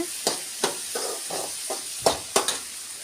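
Idli steaming on a home stove, a soft steady hiss broken by a series of sharp clicks and taps at irregular intervals, fairly close and with no voices.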